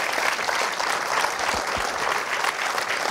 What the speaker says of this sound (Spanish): Dele otro aplauso, por Dios.